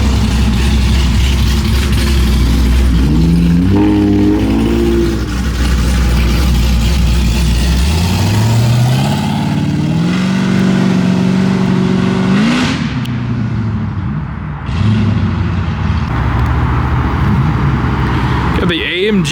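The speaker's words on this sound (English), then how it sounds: "This G8 sounds crazy." A Pontiac G8 revs loudly while rolling out of a private underground car meet in Houston, its engine note swinging up and down through several blips before settling into a deep rumble, with crowd voices around.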